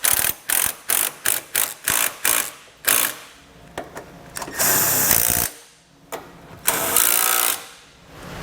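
Ratchet snugging the nuts on a hidden hitch receiver being installed on a 2021 BMW X7: rapid close clicking strokes in a quick rhythmic series, then longer ratcheting runs with short pauses between.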